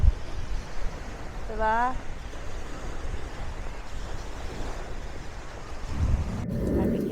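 Sea waves wash along the seafront at San Juan, Batangas in a steady broadband roar mixed with wind buffeting the microphone; a brief bird chirp and a short spoken word come through.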